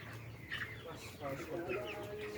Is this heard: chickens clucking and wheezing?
yes